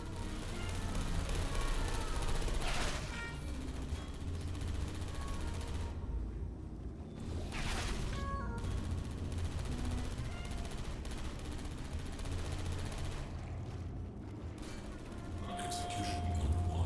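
Automated turrets fire in sustained bursts inside a Portal Stories: Mel test chamber, the rapid gunfire continuing almost throughout with brief louder peaks, backed by a low droning bed.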